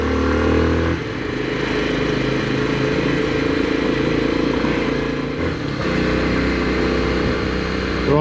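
A 1980 Honda CT110 Trail motorcycle rides off-road through Wiltshire and Hampshire, its small engine droning steadily and loud up close, with a brief dip in revs near the start and again midway.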